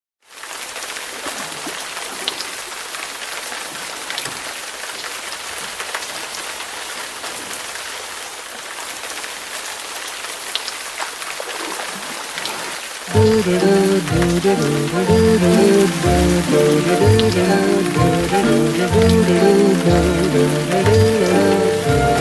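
Artificial rain falls on a film set as a dense, steady hiss of drops, and after a while music begins playing over the downpour.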